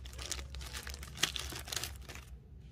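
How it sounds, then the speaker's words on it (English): Crinkly plastic packaging crumpling and rustling as bubble wrap with a thin plastic cover is unwrapped, close and fairly quiet, with a few sharper crackles and no talking. "Inside this package, there is this bubble wrap with just a plastic cover"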